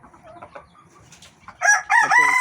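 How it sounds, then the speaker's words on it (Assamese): Domestic chickens kept in a separate room cluck softly, then break into loud, close calls and a rooster-like crow in the second half. "এইখিনি আমাৰ মুৰ্গী আৰু আছে বেলেগ এটা ৰুমত"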